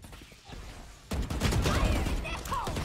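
Gunfire in the Valorant shooter game, a sudden burst of rapid, loud shots starting about a second in after a quieter stretch, continuing in dense volleys as a voice talks over them.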